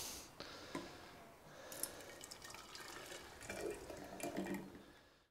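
Rumen fluid pours into a jar, about 250 ml, with faint trickling and splashing. It swells louder near the end of a short, quiet pour, and no one speaks.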